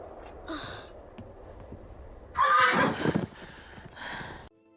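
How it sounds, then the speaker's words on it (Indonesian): A horse whinnies near and loud, a shrill rising neigh set among breathy snorts and gasps, with rushing motion noise as it runs past. "seekor kuda berlari di depan mereka dengan sangat kencang"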